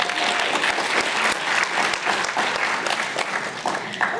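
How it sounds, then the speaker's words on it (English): Steady applause from a crowd, dense clapping sustained throughout with a faint murmur underneath. "give them a big round of applause."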